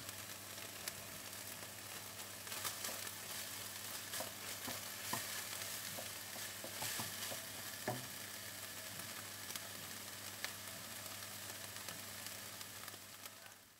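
Steady crackling sizzle of minced meat with cumin frying over high heat in a pan, with occasional small pops and scrapes, continuous and fairly close.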